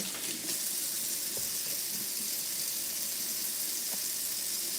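Warm tap water running steadily into a kitchen sink, a constant hissing splash at moderate level with a few faint clinks and knocks in the background.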